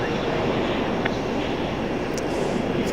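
A JetBlue jet airliner departs Raleigh-Durham with a loud, steady broadband engine roar, close and continuous for the whole stretch.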